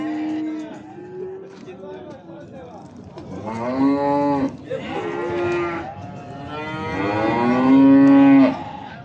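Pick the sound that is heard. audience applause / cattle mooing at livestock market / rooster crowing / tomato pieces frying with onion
cattle mooing at livestock market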